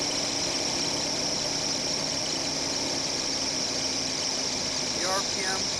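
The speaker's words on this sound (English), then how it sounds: "The RPMs pick up suddenly." A car engine with a freshly rebuilt carburetor warming up, its steady hum rising as the revs pick up, with a voice briefly heard near the end.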